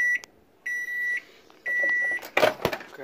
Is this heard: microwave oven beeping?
yes